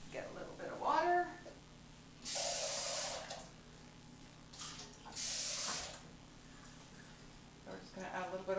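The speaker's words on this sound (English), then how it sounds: "Let's get a little bit of water." Two short hissing bursts of water poured into a pan of onions for oil-free water sautéing, each lasting under a second, with a voice speaking briefly before and after.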